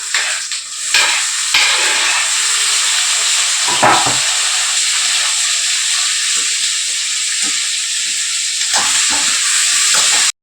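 Onion and tomato fry in a pan for tomato rice, giving a steady, loud, hissing sizzle with occasional stirring scrapes and no one talking.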